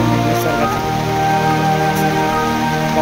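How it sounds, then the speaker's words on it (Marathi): Heavy monsoon rain falls on the trail to Harihar Fort near Nashik, a loud, dense, unbroken hiss that fills every moment. "पावसानं पण हजेरी लावली जोरात."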